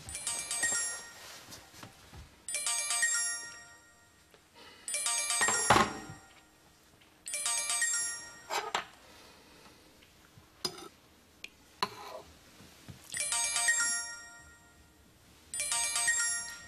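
A telephone ringtone chimes in repeated bursts about every two to three seconds, with a few thunks and ticks between rings and no talking.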